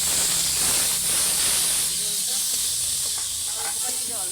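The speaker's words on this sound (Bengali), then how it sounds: "পেঁয়াজ বাটাটা দিয়ে দিচ্ছি" Onion paste hitting a hot pan while a silver carp curry is cooked, giving a loud steady hiss and sizzle that gradually softens, with a voice speaking over it.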